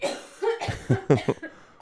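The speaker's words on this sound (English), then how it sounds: "If you're going to cough, could you please go in the other room?" A person coughs several times in quick succession, close and fairly loud, with short sharp bursts and brief gaps between them.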